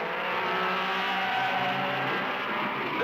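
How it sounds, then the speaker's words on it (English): A Porsche Spider sports racing car, number 59, rejoins a 1963 race course with a sustained, fairly loud engine drone that holds a steady pitch throughout the short stretch, with no gaps or separate passes. "The Porsche Spider, number 59, moves back on the course to seriously challenge the bigger and more powerful Ferraris and Maserati."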